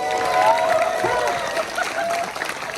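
Audience at a Universal Studios Orlando horror make-up show applauding and cheering a volunteer, a steady wash of clapping with a few shouts, fairly close and full for a couple of seconds, with voices mixed in.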